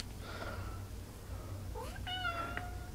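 Frightened cats meow, giving a few close, strained cries: a drawn-out meow first, then a sharper rising wail near the end, over steady low background hum.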